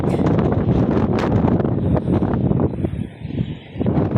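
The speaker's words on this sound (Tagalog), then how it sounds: "Lakas ng hangin, lamig." Strong wind roars and buffets the microphone continuously, loud and close, with gusts rising and dipping, high up in Tagaytay; no voices.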